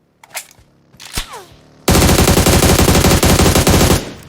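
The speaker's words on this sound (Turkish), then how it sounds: "Biri bana sıktı." PUBG Mobile gunfire starts with a few sharp single shots and then turns into a loud, sustained burst of rapid automatic fire lasting about two seconds before it cuts off.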